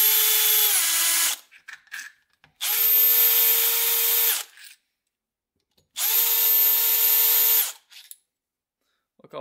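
Power tool backing screws out of a rough Honda XR100 dirt bike, three loud whirring bursts of a few seconds each, separated by short pauses with faint clinks, close by.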